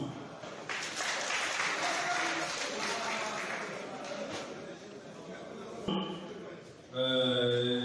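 A crowd at a sports club's elective general assembly applauds steadily for several seconds in an approval by acclamation, a dense wash of clapping, followed by a brief pause and then a voice speaking.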